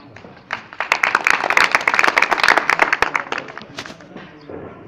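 Audience applause at a live show at a dera gathering, a dense burst of many hands clapping that swells after a second, holds strongly for a couple of seconds, then thins and fades.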